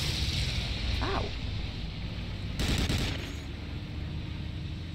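Aircraft strafing run in Medal of Honor Allied Assault, a distant burst of rapid gunfire rolling over a steady noisy battlefield drone, with no voices.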